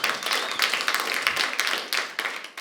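An audience clapping at a stand-up comedy show, a steady, moderately close round of applause with many hands at an even rhythm.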